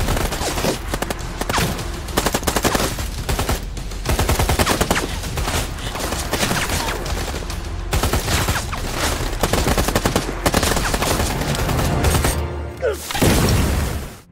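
Intense film battle scene, dense bursts of gunfire and machine-gun fire mixed with booming explosions and a grenade blast, loud and continuous throughout.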